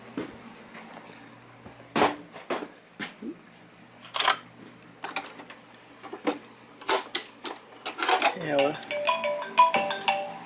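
A phone ringtone sounds in a snowmobile workshop, faint intermittent chiming tones rising near the end amid scattered clanks and shop noise, with someone talking.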